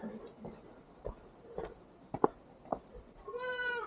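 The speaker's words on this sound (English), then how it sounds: "A goat." A goat bleats several times in a Nepal village, short close calls spaced across a few seconds, followed by a brief rising sound at the end, over quiet outdoor ambience.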